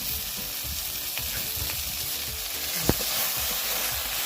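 Turmeric, cumin, coriander and chilli powder sizzle steadily in hot oil for a chicken skin and calabash curry, a continuous close frying hiss with a single sharp clack near the end and no talk.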